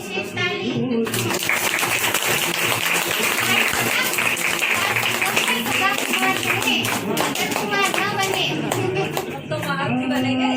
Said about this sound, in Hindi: मैं तुम्हारे लिए विशेष ताली।